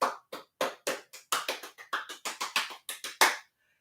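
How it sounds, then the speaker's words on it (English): A handful of people in an older adults' exercise class clap for themselves, about sixteen sharp separate claps in a loose, uneven rhythm, close and clear, then stopping abruptly. "give yourselves a very well-earned round of applause"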